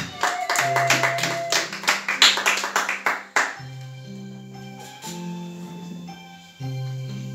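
A church congregation claps in rhythmic acclamation, a run of sharp, evenly spaced claps that fades out while sustained keyboard chords continue underneath.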